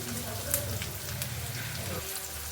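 Carrots frying in oil in a pan, a steady, even crackle and hiss with low background hum and faint voice-like murmur underneath throughout.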